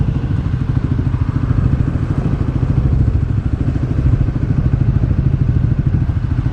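A motorcycle engine idles steadily with a rapid, even low-pitched putter and light mechanical clatter, close and constant throughout.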